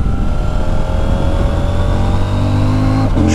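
A CFMOTO 800MT Touring motorcycle engine pulls hard at full throttle, a loud, continuous droning roar with its pitch climbing steadily before cutting off abruptly near the end.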